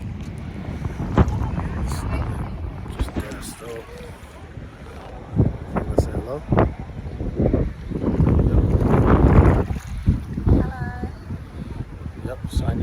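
Loud wind buffets the microphone outdoors in blazing sun, rumbling and gusting throughout while people talk briefly over it.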